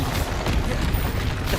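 A Confringo blasting spell explodes in Hogwarts Legacy as a dense, loud, rumbling blast that holds steady through a brief burst of noise.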